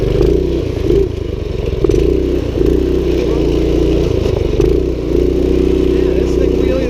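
A 1970s minibike engine runs loud and close while ridden through wheelies, its buzzy drone rising and dipping with throttle changes and rattling clatter over the top.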